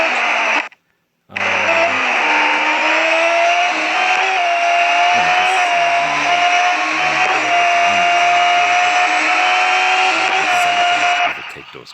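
A race car engine at full throttle in the Real Racing 3 game, Formula Future event, drones loudly and steadily close up, holding a high sustained whine after a short cut near the start, with a little gear-shift wobble.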